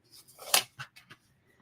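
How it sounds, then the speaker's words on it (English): Short scratchy strokes of a pen or pencil on paper, one strong burst followed by several lighter scrapes, close and fairly loud, with no talking. "Hang on. I got to write down those words."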